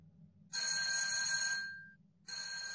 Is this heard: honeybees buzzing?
no